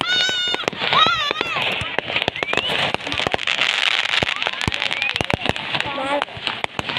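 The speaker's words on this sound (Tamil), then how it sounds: "பாரு கீழே இருந்து பட்டாசு வர்றது தெரியும்" Rapid crackling bursts of firecrackers popping in irregular clusters, with whistling rockets rising and excited voices talking over them outdoors.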